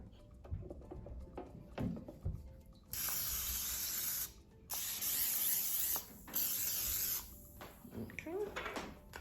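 Cooking spray hisses from a can onto a waffle iron in a home kitchen, three steady bursts of a few seconds each, loud and close with brief pauses, over faint background noise.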